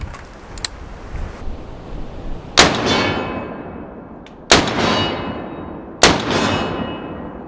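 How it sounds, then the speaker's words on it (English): Three loud, sharp gunshots from a Springfield Armory Saint Victor .308 AR pistol fire about two seconds apart, each ringing out into a long decaying echo, with a few faint clicks before the first. "I'm gonna shoot a couple of shots out of this, the 308"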